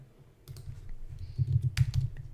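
A few quick keystrokes tap out a shortcut on a computer keyboard during window drafting in design software, soft and close, ending in a brief cluster of clicks.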